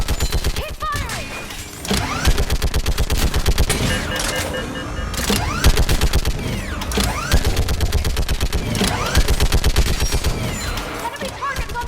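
Rapid automatic gunfire in a Mass Effect 3 battle on Thessia, with dense, loud bursts of fire that continue almost without pause and only brief lulls between them.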